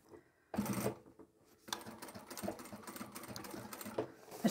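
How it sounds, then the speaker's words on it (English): A sewing machine stitches a seam through the thick layers of a large duffle bag, running in short close bursts with a pause before a longer steady run of rapid needle clatter. "I'll start sewing at that seam again"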